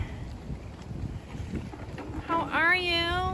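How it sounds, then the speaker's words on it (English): Strong outdoor wind buffets the microphone with a low, rumbling roar that runs through the whole stretch, and a person's voice speaks close over it near the end. "it's really windy out here, guys."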